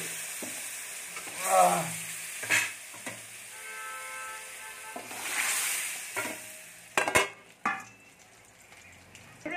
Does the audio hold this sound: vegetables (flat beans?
yes